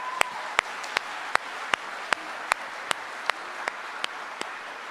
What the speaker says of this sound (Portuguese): Eu vou aplaudir.